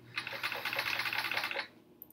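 A sewing machine stitching over small fabric pieces, a quick rattling run of needle strokes lasting about a second and a half before stopping, close and fairly quiet.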